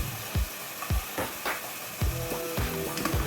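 Pieces of shallow-fried fish going into biryani masala in a hot pan, giving a steady sizzle broken by several soft thuds and stirring scrapes, with no talk.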